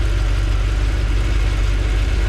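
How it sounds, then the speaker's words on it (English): A car engine idles after its carburetor was flooded. It gives a steady, loud, low rumble close by, with no talking. "Idles. It idles again."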